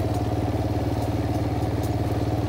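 A four-wheeler engine putters close by, a steady low throbbing idle with a rapid, even pulse and a light mechanical clatter, with no talk over it.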